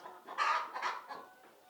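Two-year-old laying hens of a layer parent stock cluck softly and closely, a few short overlapping clucks and murmurs in quick succession with no talk.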